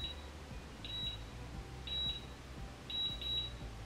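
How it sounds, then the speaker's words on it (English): An automatic hair curler gives short, high electronic beeps, single and paired, spaced about a second apart over a low background hum. "And now it's beeping."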